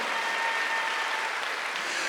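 Church congregation applauding during a Korean Wednesday worship sermon, a steady, dense wash of clapping that fills the whole moment without any talk.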